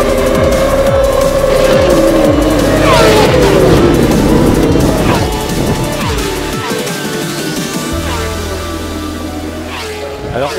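A Moto2 racing motorcycle built with 3D-printed metal parts is ridden, its engine whining loudly with rising and falling revs through gear changes, the note dropping lower toward the end while a voice talks over it.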